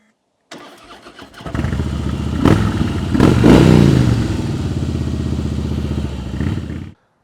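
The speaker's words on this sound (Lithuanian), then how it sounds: "pabandom parodyti jums dar ir balsą to motociklą" A Harley-Davidson motorcycle engine catches and starts, then revs loudly with a rising surge before settling into a steady, throbbing idle, close and alone without voices.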